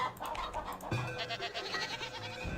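Goats bleating and chickens clucking among farm livestock in the village-building video game Farthest Frontier, several short animal calls over a steady game ambience and music bed, with no talk.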